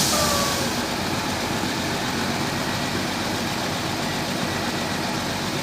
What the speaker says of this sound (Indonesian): Ada dua unit bus ALS teman-teman dengan Nopin 386 yang baru sampai juga di terminal Pekanbaru